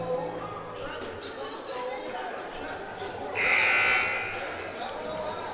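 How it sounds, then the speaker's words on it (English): A loud, steady electronic buzzer ending a timeout at a men's basketball game sounds for about half a second over a noisy arena crowd murmur. "Buzzer goes to end that timeout"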